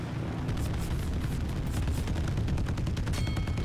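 Continuous, rapid gunfire from an enemy aircraft in the Roblox air-combat game Wings of Glory (jet-age beta), a dense, loud stream of shots with no pauses and no talking.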